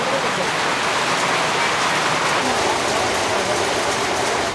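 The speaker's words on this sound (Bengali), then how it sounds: "চরে এক পশলা বৃষ্টি হয়ে গেল" Steady rain shower pouring down on a river char at Nandalalpur, a dense even hiss of falling water holding constant throughout and cutting off abruptly at the end.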